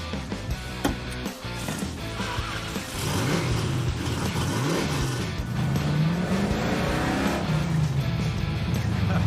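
A Mirada car pulls away on a road trip, its engine revving and rising in pitch through a couple of gear changes, loud and close, with rumbling exhaust building into sustained acceleration.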